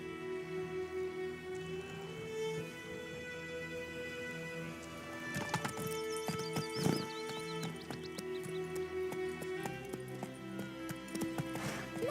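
Roach the horse in The Witcher 3, hooves clip-clopping at a trot under a sustained musical drone, with sharper hoof and tack clatter becoming busier in the second half.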